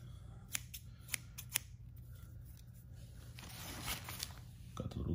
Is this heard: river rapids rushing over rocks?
no